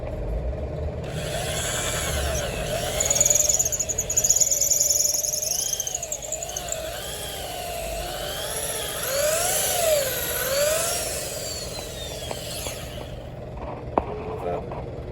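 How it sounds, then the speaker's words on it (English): A drill whines as it bores into an antler handle for a hand-forged skean dhu, its pitch rising and falling for about twelve seconds before stopping. "make the drill a bit longer, pin it in the end of it, and just go a bit deeper"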